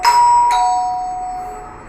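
A two-note doorbell chime rings loud and close, a higher ding followed by a lower dong that rings out and slowly fades.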